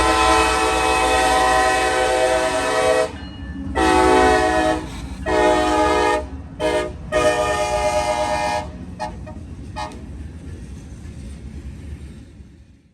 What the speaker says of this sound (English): CSX train M561 heads southbound to the north end of Troy Siding